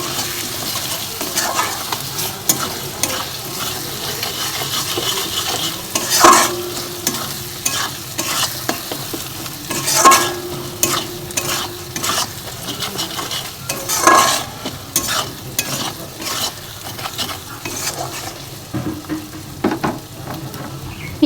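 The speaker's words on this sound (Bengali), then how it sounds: "পেঁয়াজ রসুন ভালো করে ভাজা হয়ে গেছে" Onion and garlic fry with turmeric and salt in a pan for a mustard rui kalia curry, a steady sizzle under repeated scraping strokes of a stirring spoon, loud and close throughout.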